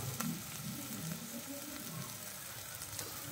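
Onion with green chillies and curry leaves sautés in a pan for meen pollichathu, making a soft, steady sizzle with faint crackles throughout.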